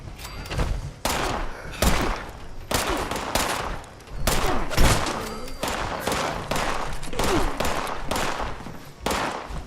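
Dense, loud bursts of gunfire from a Fallout 76 firefight, sharp broadband cracks in rapid clusters and volleys with brief pauses, continuing for several seconds without talk.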